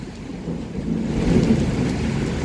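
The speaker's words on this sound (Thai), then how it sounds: "มาพร้อมฝนครับมาแล้วครับ วันที่ 8 เมษายนครับผม พิกัดที่เทศบาลเมืองสุรินทร์ครับนี่ พร้อมฟ้าร้องครับ" Steady rain hisses while a deep rumble of thunder swells and rolls through the middle, with no voices.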